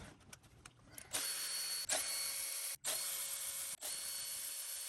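Nuts and bolts of 12mm are loosened from a Toyota 3.4L 5VZ-FE V6 throttle body with a power tool, heard as several close, loud buzzing bursts separated by brief pauses, following some light clicks.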